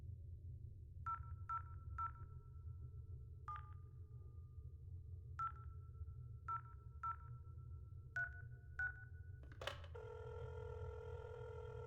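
A telephone rings in the video game INFRA: a series of short, repeated electronic ring tones over a steady low hum, ending in a louder, fuller chime.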